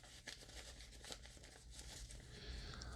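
Cheap, paper-like cape fabric on a 12-inch Spin Master Batman action figure crinkles and rustles up close, a soft continuous run of crackly handling noises with no talking.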